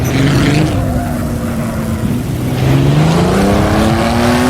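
A Silver Arrows racing car in a video game circuit lap drones loudly, its engine pitch dropping as it slows, then climbing steadily as it accelerates again, close and continuous with no break.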